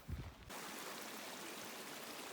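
Creek water flows in a steady broadband rush on a backpacking route along the Great Divide Trail, heard alone and fairly close after a brief muffled thump at the start.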